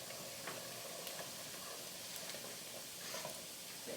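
A pot of rice for jambalaya simmers after water is added, giving a soft continuous hiss and sizzle with faint scattered bubbling pops, low in level and steady, with no voices.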